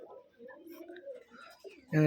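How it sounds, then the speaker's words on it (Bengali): Pigeons coo on a farm of Machranga racing pigeons, low rolling coos in a quiet setting, cut off at the end by a sudden loud burst. "এখানে যে যতগুলো কবুতর দেখতেছেন সবগুলো কবুতরই প্রায় মাছরাঙা বাজির কবুতর।"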